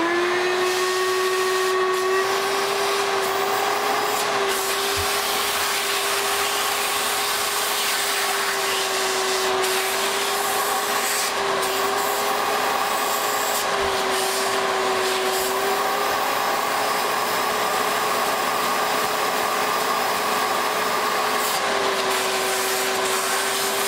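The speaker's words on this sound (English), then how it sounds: "I actually just turn the shop vac on and I just hold it on there" A shop vac held against a Dietz Junior #20 lantern burner to dry it, a loud continuous whining hiss with a steady high tone that runs unbroken for the whole stretch.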